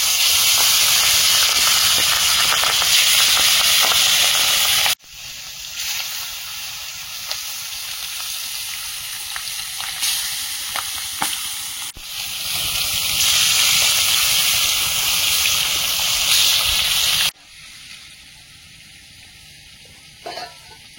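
Food sizzles in a wok during outdoor cooking on a rainy day, a loud, hissing frying sound that cuts between stretches of quieter, softer sizzle.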